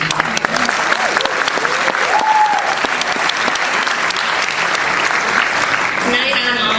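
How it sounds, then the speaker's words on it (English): At a Tribeca Film Festival event, an audience gives a loud, sustained round of applause for Monica. The dense clapping fills the room while voices carry over it. "So we have a round of applause for Monica."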